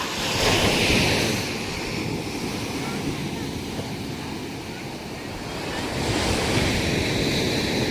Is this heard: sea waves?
yes